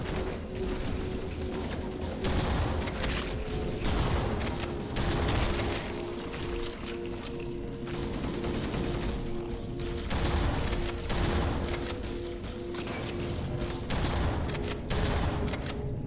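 Steady, dense game combat across the whole stretch: repeated shotgun-style blasts and booming gunfire layered over a constant mechanical bed, loud and continuous with no talking.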